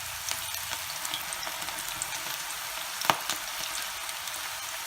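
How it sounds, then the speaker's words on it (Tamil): Cabbage pakoda fries in oil over a slow flame, giving an even, close bubbling sizzle with one sharp click partway through. "ஸ்லோ ஃப்ளேமில் நல்லா வறுத்துடுங்க"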